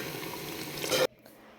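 Water from a glass poured into a mixer grinder jar to rinse out ground masala for a soya and mushroom pulao, a steady broad pouring rush that stops abruptly, leaving a quiet kitchen.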